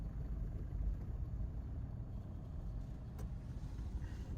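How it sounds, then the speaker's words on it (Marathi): Steady road traffic in Belapur, Mumbai: a continuous low rumble of car and vehicle engines passing nearby, fairly quiet and even throughout, with no speech. "आता आम्ही बेलापूर मध्ये आहे आणि खूप ट्रॅफिक लागली आम्हाला."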